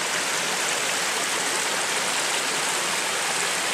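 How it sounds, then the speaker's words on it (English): A creek flows through Capitol Forest near Olympia, Washington: steady, dense broadband rushing water, close and loud throughout with no voices. "Man, look how beautiful this creek is here."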